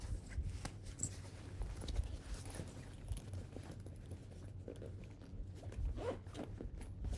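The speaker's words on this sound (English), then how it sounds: "let's go ahead and zip this one back up" A zipper pulled closed along a packed travel bag, a steady rasping run with small rustles and handling knocks, close up and fairly quiet, with no talking.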